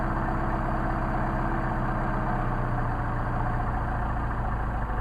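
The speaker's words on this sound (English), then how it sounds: "Just a couple of lifts of the throttle and hit the starter switch." A Mercedes 190SL engine with Solex 44PHH carburetors running, a steady, loud low rumble and chug held evenly throughout, close by with no voices.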